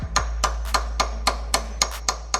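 Light taps of a socket driving a pilot bearing into a Toyota JZX110 crank during a manual swap: about nine evenly spaced sharp metallic clicks, close by, over a steady low hum.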